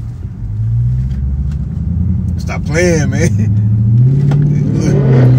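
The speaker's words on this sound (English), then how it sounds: "That's a Hellcat, too." A Dodge Hellcat engine rumbles and revs close by, its note rising steadily, while people talk loudly over it inside the car.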